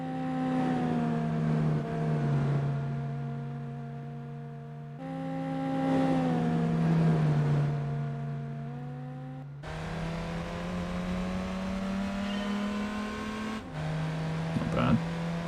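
A Japanese car's engine revs in Gran Turismo 4 Spec II, holding a steady droning pitch that rises and falls through several gear changes, loud and continuous with slight pauses between runs.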